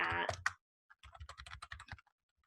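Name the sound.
typing an answer on a computer keyboard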